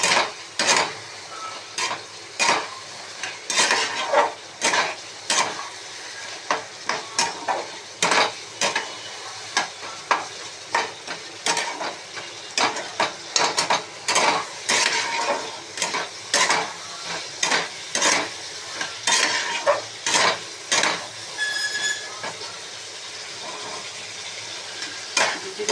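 Pumpkin leaf tips and potatoes stir-fried in a wok for a vegetarian chorchori: a spatula scrapes and knocks against the pan in a steady, repeated rhythm, dozens of strokes over a low sizzle, close and alone without talking.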